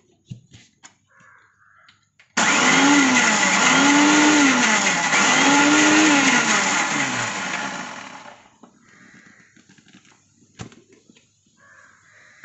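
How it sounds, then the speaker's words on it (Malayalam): Blender whipping homemade mayonnaise after more oil is poured in, its loud motor starting abruptly and whirring for about six seconds with a wavering pitch before cutting off, faint kitchen sounds on either side. "നമ്മൾ വീണ്ടും ഓയിൽ ഒഴിച്ചു കൊടുക്കുന്നു, വീണ്ടും ഒന്നും കൂടി അടിക്കുന്നു."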